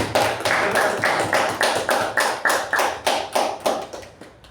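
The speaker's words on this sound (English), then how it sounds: "Can we have a big round of applause for all the speakers?" Meeting audience applauding the speakers, a short burst of rhythmic, fairly loud claps that settle into a steady beat and taper off near the end, with no talking.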